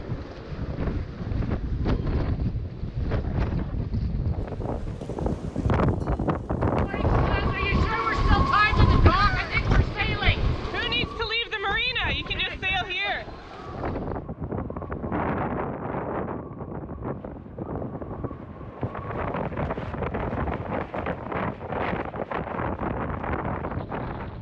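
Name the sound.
strong wind gusts against a boat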